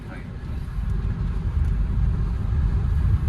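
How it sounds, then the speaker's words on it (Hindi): A car is driven along the road, with a low, steady interior rumble and road noise that grows slightly louder, while voices talk faintly over it. "अरे तो पप्पा चला रहा है गाड़ी"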